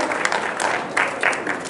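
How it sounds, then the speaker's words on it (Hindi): An audience at a school event applauds, a brief burst of dense, fairly close clapping with no voices. "एक जोरदार ताली।"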